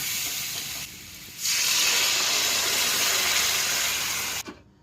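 Water hits frying spices in a pan for an amudi fish curry, and the sizzle jumps into a loud, sustained steam hiss that cuts off abruptly near the end.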